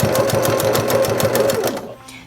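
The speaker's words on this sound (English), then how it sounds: "we're going to stitch all the way around your felt piece" Electric sewing machine stitching around the edge of a felt needle tag, a fast steady mechanical chatter of close needle strokes in even rhythm, running for about two seconds before stopping abruptly.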